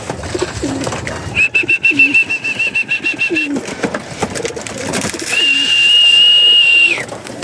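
Pigeons in a loft give soft cooing calls amid rustling and fluttering movement. Two long whistling tones ring out above them, and no one speaks.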